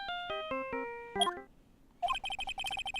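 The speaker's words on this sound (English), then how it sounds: "Emma, I know that song your phone plays when it rings" Phone ringtone from the Phoenix Wright: Ace Attorney video game playing a theme, a bright chiming melody of quick notes followed by a fast repeating ring pattern, clear and alone.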